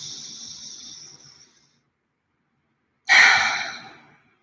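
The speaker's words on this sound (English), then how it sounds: "So you can close your eyes and we will start breathing." Two slow, deep breaths during a guided healing meditation: a long airy exhale that fades, a stretch of silence, then a sharper inhale swelling and trailing off, close and alone.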